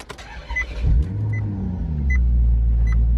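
A Maserati GT engine cranks and fires up, surging into a loud, deep idle rumble that settles and holds steady.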